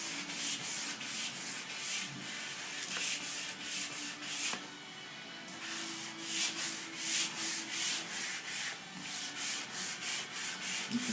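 A Corvette body panel is wet sanded by hand, giving steady rhythmic back-and-forth rubbing strokes, close and continuous with a brief pause midway.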